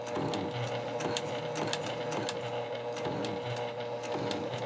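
Sewing machine stitching a handbag, running in regular short bursts of rapid needle clatter with brief pauses between them, close and clear with no talking.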